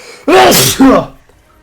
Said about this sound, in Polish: będę kichał